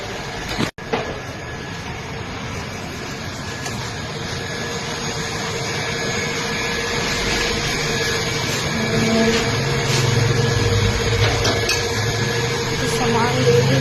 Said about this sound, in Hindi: मोटर चल रहा है लेकिन सबका आवाज़ कर रहा